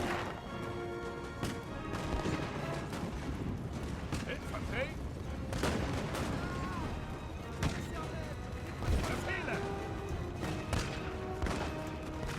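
Musket volleys crack through a dense Napoleonic battle in the Napoleon Total War video game, with sharp reports rising out of a constant roar of combat that continues throughout.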